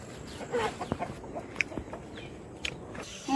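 A live local chicken clucks in short, scattered bursts while being weighed, close by, with light shuffling and handling noises between calls.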